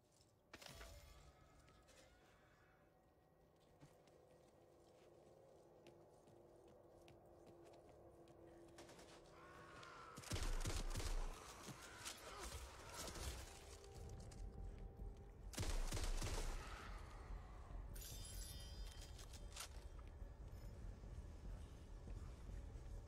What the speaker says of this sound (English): Assault rifle here.